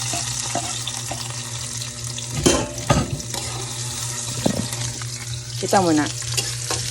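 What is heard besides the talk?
oil sizzling in a pan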